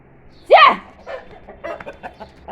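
A chicken gives a sharp, loud squawk, followed by a few softer clucks and scratching noises nearby.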